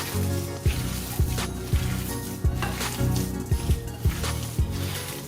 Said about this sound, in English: I'm going to massage all that seasoning in